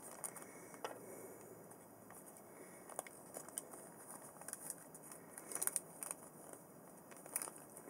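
Quiet, close crinkling and crackling of a plastic bag being handled, in irregular small bursts that grow busier toward the end.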